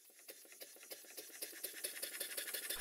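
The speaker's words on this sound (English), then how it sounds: "I do believe it's starting to sound more like a steam engine" Small Stuart No. 1 model steam engine running after big-end and nut adjustments, with slack eccentric straps, giving a quick, even train of soft mechanical clicks and chuffs at close range, getting steadily a little louder.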